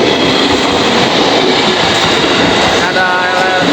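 A KRL commuter train bound for Manggarai rumbles past nearby at a Jakarta-area station, loud and steady, with a metallic squeal of wheels rising toward the end.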